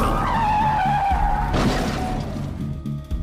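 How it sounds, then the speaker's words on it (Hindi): A car skids with a long tire squeal, then crashes into a tree with a sharp impact near the midpoint. A fading, rattling aftermath follows, loud and close, with no talk. "अचानक उसे अपने सामने देखकर विभा अपनी गाड़ी का संतुलन नहीं बना पाई और उसकी गाड़ी एक पेड़ से टकरा गई"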